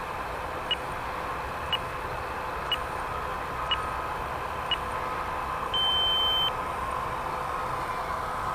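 An RC plane flight timer gives six short electronic beeps about a second apart, then one longer tone, over a steady background hum.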